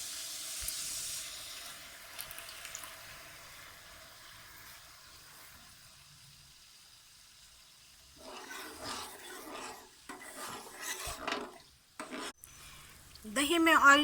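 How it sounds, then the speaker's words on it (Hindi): Yogurt being stirred into garlic and ginger paste for a large batch of degi chicken korma: a soft hiss at first, then bursts of wet scraping and mixing that grow louder toward the end, with no talking. "लहसुन और अदरक के पेस्ट में मैं दही मिलाने लगी हूँ"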